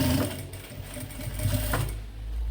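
A sewing machine topstitches the lining of a fabric maternity bag, giving a steady, close mechanical whir of rapid stitching throughout the short stretch, with no voices.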